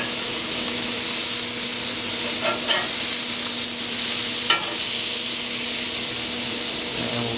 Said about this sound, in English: About 4 minutes in, we're going to give these burgers a flip